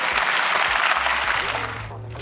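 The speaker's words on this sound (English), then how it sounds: "Let's listen to the end of the original to hear that applause." Applause at the end of an ElevenLabs-generated audio clip, a brief dense burst of crowd clapping that fades out toward the end, with a low hum beneath.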